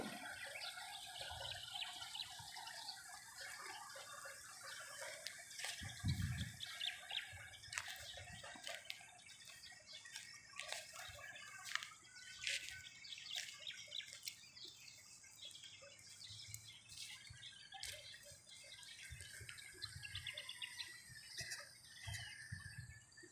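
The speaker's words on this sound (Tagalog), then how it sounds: "Yan po ang ating Tarlac Diversion Dam." Outdoor ambience at the Tarlac Diversion Dam, with steady rushing water beneath repeated chirps and calls of birds, including rooster-like crowing, plus occasional nearby thumps.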